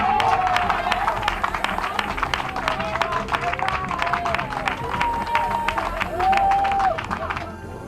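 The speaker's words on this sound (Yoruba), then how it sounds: "ẹ máa pàtẹ́wọ́ fún bàbá" Audience applause and clapping for a father figure at a gathering, a steady dense patter of many hands with crowd murmur and whistle-like tones running throughout.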